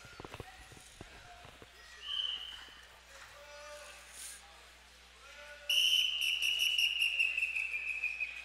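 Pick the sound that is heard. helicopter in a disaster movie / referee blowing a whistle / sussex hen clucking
referee blowing a whistle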